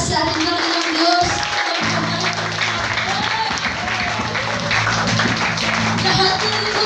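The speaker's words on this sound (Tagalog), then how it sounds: "Palakpak ng malakas sa ating Panginoong Diyos." Loud clapping from a church praise-and-worship congregation, sustained and dense, with a voice and music-like tones running underneath.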